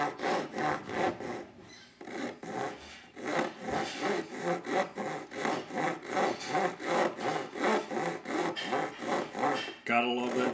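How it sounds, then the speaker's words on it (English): A hand saw cutting wood in steady back-and-forth strokes, about two per second, close and rasping, with a short pause partway through. "I'll saw a little bit for you"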